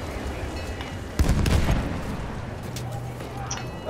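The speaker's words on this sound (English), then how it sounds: "Grenades in!" A single grenade explosion bursts mid-battle in the video game Battlefield 1, a moderate boom with a rumbling decay amid distant gunfire and background noise.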